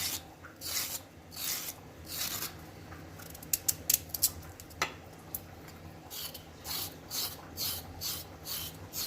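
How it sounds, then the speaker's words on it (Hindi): A peeler scrapes along raw carrots being peeled for orange-carrot juice, giving repeated soft rasping strokes in a loose rhythm, close and fairly quiet, with a few sharper clicks midway. "तो गाजरों को आप इस तरह करके सारी छील लें।"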